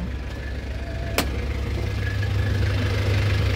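The 2.3-litre diesel engine of a 1994 Isuzu Panther Hi Grade idles with a steady, low, even rumble that swells slightly toward the end, with one sharp click partway through.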